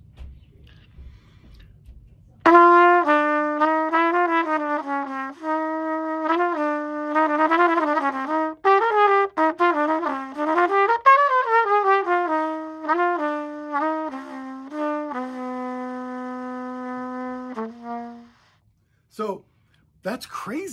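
Trumpet played through a two-piece mouthpiece loosened about a quarter or eighth of a turn, giving an airy tone: a run of sustained and repeated notes with a bending passage, then a brief breathy tail, no talking.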